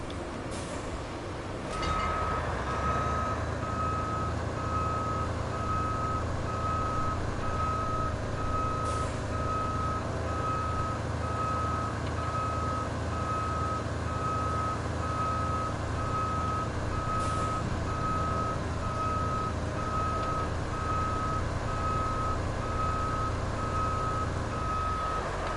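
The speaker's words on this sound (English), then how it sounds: "I had the bloody handbrake on them and I was reversing" A truck in the Roadcraft game backs up with a steady, evenly spaced reversing beep that runs through the whole stretch over a low engine drone, loud and close with no talking.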